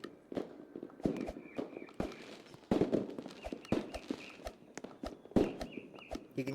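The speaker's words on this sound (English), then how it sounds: "You can hear the fireworks in the background of the game." Video game fireworks pop and crack sharply in irregular bursts during a Fourth of July train game, with sharp separate bangs scattered throughout at moderate loudness.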